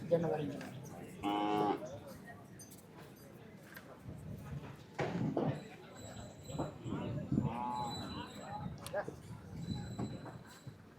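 Native cattle moo at the Palayakottai livestock market, two loud calls several seconds apart amid hoof clatter and people talking close by.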